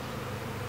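A honeybee swarm being collected into a top bar hive drones in a faint, continuous buzz, many bees blending into one steady hum with no voices.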